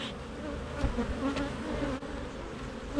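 Honey bees buzz in a steady, dense drone around a hive in a light breeze, agitated, with no voices.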